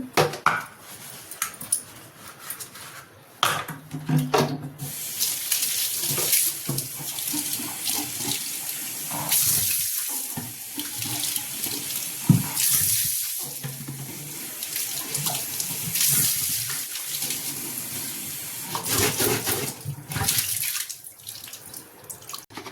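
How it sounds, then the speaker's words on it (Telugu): Dishes and bottles being scrubbed and rinsed in a kitchen sink under a running tap, with steady water flow broken by splashes, clanks and shifting sounds of handling, close and fairly loud, no talking. "గిన్నెలన్నీ తోమేసాను, బాటిల్ కూడా తోమేసా, గిన్నెలు తోమేసా"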